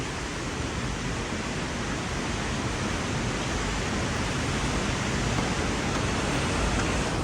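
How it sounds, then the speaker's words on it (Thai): A steady, dense roar of Haew Narok waterfall in Khao Yai National Park, Thailand, loud and continuous throughout with no breaks. "บอกเลยว่าน้ำตก"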